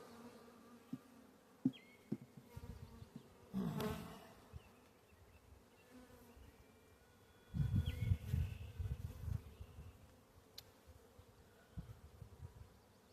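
Honey bees buzz on a hive frame among unhatched queen cells, a faint, close hum with louder swells where bees pass near. Soft handling and rustling noises sound in between.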